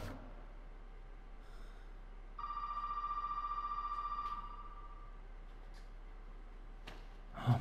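Telephone ringing in the horror video game Resident Evil 7: one steady electronic ring lasting about two seconds over quiet ambient hum, with a faint thump at the end.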